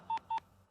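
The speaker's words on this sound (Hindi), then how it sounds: "अब मैं एमएलए को फोन लगाता हूँ।" Two short, clean dial-tone beeps sound in quick succession as a phone number is dialed, fairly quiet with no speech.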